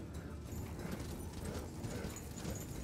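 Horse hooves clip-clop in the video game Darksiders II, a steady patter of hoofbeats muffled within a loud, dense wash of game noise and ambience.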